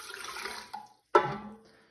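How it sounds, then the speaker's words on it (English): Water poured into a bread maker pan, a short splashing burst followed by a sharper, louder pour that trails off, close and alone. "So you put your water in"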